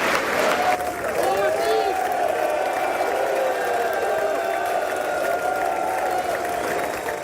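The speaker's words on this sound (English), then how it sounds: "The Prime Minister walked into loud cheer and applause as lawmakers welcomed him." Loud, sustained applause and cheering from lawmakers welcoming Indian Prime Minister Modi in the US Congress chamber, a dense crowd roar with a voice speaking over it.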